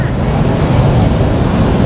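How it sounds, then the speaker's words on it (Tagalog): Loud, continuous rush of strong ocean surf close by on a beach in La Union, Philippines, with wind noise blending into a steady roar. "Grabe sa alon."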